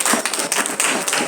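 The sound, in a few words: audience clapping at a wedding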